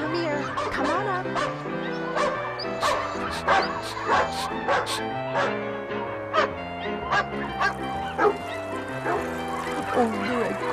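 A small toy dog figure from a Lemax Barkley dog hotel and spa set yaps and whimpers in a busy repeating mechanical pattern, with layered jingly tones underneath and short bark bursts throughout.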